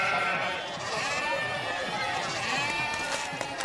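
A goat bleats repeatedly at close range with wavering, quavering calls, while people talk over the bleats.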